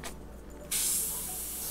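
An Iwata airbrush sprays automotive paint on a custom Bell Rogue half helmet, starting with a soft hiss and then opening into a loud, steady spray of air that holds to the end.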